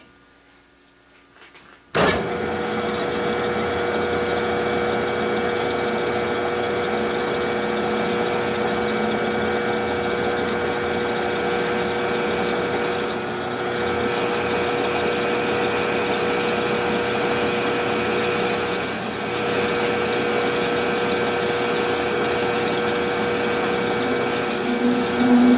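Five-axis machine tool cutting metal near stainless workpiece, running steady and loud with a continuous droning hum and faint chatter after starting abruptly, no talk.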